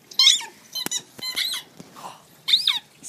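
A rubber squeaky toy football is squeezed several times, giving short, sharp, high-pitched squeaks separated by brief pauses, loud and close with no talking.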